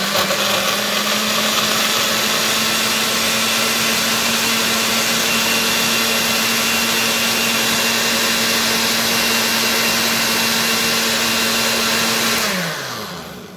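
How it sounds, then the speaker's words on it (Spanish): A blender whirs steadily at high speed, mixing strawberries and ingredients for a strawberry mimosa, a loud continuous motor drone that runs alone for about twelve seconds before winding down as it is switched off. "Vamos a tapar y a poner a trabajar nuestra licuadora."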